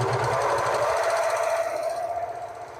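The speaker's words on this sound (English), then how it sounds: "that was the top speed on this serger. I had it all the way to the floor" A serger sewing machine running flat out with the foot pedal pressed to the floor gives a loud, steady, fast mechanical buzz that tapers slightly at the end.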